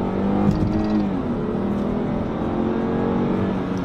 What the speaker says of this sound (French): je fais une petite accel pour voir. Et puis au plancher là, ça rétrograde.